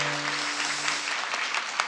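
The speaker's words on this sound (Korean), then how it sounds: "인사 한번 드릴 때 격려의 박수 한번 부탁하겠습니다" A church congregation at a Christmas service claps in encouragement for the choir conductor and accompanist, a steady, fairly soft wash of many hands heard from a distance, with no talking.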